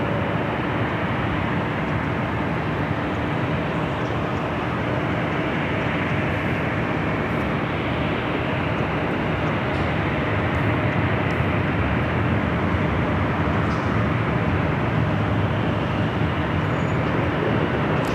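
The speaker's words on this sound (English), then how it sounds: "Have another United 777 at 200ER heading to Newark, flight 2729." Steady broadband jet roar from a United Boeing 777-200ER airliner taxiing toward takeoff at LAX, heard at a distance as a constant rumble that holds at even loudness throughout with no voices.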